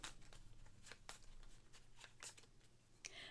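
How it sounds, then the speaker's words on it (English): Cards from the Distilled board game are riffled and shuffled together in quick, papery bursts of flicking and snapping, close up and fairly quiet, with no talking. "and shuffle them all up."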